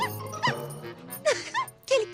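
A cartoon dog gives a few short, yippy barks and squeaky whimpers, close and clear, spaced out over a couple of seconds against quiet background music.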